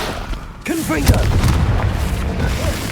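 A Confringo fire spell in Hogwarts Legacy bursts with a deep, close boom that rumbles on for a couple of seconds, while a voice speaks over it.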